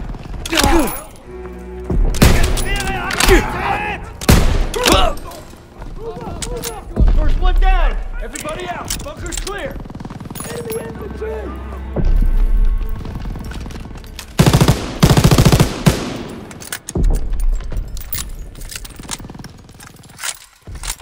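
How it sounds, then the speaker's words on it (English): Submachine guns chatter in Call of Duty WW2 during the Normandy D-Day beach landing, with loud repeated bursts and single shots, heavy thuds and explosions, under shouted battlefield voices throughout. "SMGs are still sweeping the beach!"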